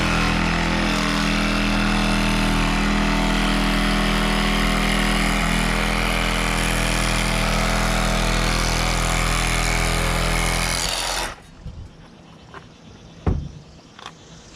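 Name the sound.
windshield extractor tool cutting out Subaru Outback windshield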